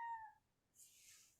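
A cat gives a short, faint meow, followed by a soft breathy hiss of noise.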